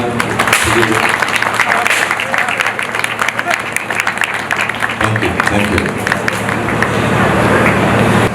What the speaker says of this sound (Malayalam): എല്ലാവരും ഒന്ന് കൈയടിക്കുക